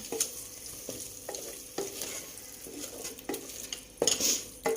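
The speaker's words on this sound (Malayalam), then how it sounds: "ഇനി നമുക്കൊന്ന് ഇളക്കി കൊടുക്കാം" Biryani masala mixed with curd is stirred in a pan, the spoon scraping and clinking against the metal in repeated strokes over a soft sizzle, close and fairly loud, with no voices.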